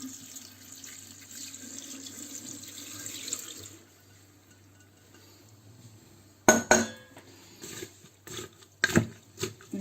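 Water from a kitchen tap runs steadily into a container of sugar for apple vinegar, then stops, followed by a few sharp clinks and knocks of dishes.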